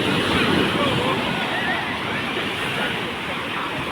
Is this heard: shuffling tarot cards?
no